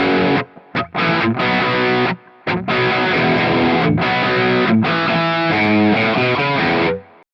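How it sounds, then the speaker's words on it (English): Heavily distorted electric guitar plays chunky rock chords through a Phenyx Pro PTG-12 wireless system, loud and sustained, with a few brief stops early on before ringing out. "more distortion, more of a rock."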